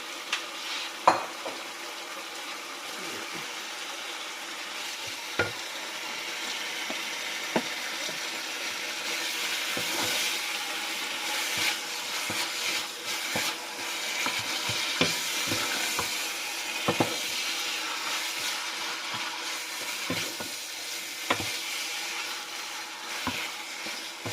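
Pork, close to two kilos, cooks in simmering panang curry paste, giving a steady close sizzle and bubbling with scattered scrapes and clacks of stirring that run the whole time, with no voices.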